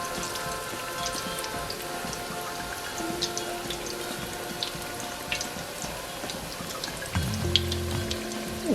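Beer-battered hush puppies fry in hot oil with a soft, continuous crackle and scattered sharp pops. Near the end come a few louder clinks and shuffles as the pieces are turned.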